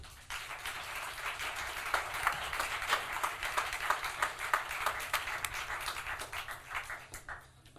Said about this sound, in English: please give a warm round of applause for Ros Barber